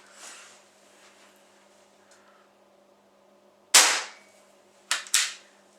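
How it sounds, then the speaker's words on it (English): A pellet gun fires three sharp, close shots in quiet surroundings, one crack followed a second later by two quick ones in succession. "let's shoot this one, and we'll shoot 3 shots with the pellets that it seems to like."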